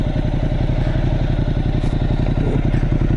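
Ducati 1200 Multistrada motorcycle running with a stock exhaust, a steady loud throbbing engine note with rapid pulsing and irregular pops and crackles from the exhaust, close by and continuous.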